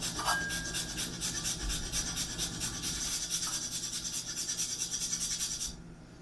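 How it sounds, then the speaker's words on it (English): Whole nutmeg is ground fresh in a small handheld nutmeg grinder, giving a close, steady rasping scrape in quick repeated strokes that stops abruptly near the end. "we're going to grind this fresh with my little nutmeg grinder here"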